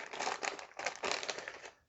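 A plastic bag of LEGO Star Wars Microfighter pieces for Mando's N-1 Starfighter crinkling close up, a dense continuous rustle in two bursts that fades out at the end.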